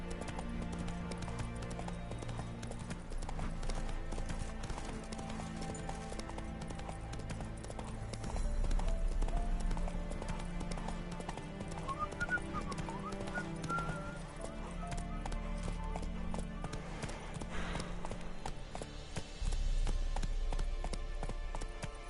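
Hoofbeats of the horse Roach galloping in The Witcher 3: Wild Hunt, a steady clip-clop rhythm over a dense game soundtrack with occasional whinnies, moderately loud throughout.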